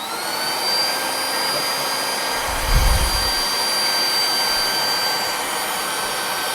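A sausage stuffing machine pushes ground meat into casings for homemade sopressata, giving a steady broadband whirring drone throughout with a brief low thump near the middle, no one talking.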